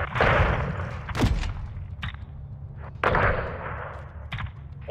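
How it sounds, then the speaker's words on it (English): A big explosion and gunfire in a first-person shooter campaign: loud booming blasts and sharp shots at the start and again around the three-second mark, over a constant low rumble of battle. "Damn, that's a big explosion."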